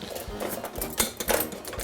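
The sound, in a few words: wire whisk mixing dry ingredients in a bowl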